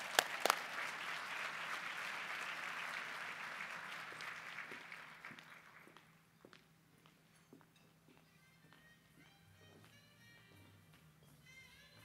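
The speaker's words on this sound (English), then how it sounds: "Let's give her a round of applause." A crowd claps steadily for several seconds, then the applause fades out, leaving a quiet room with scattered small knocks and faint sounds.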